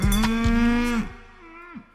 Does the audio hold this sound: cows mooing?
yes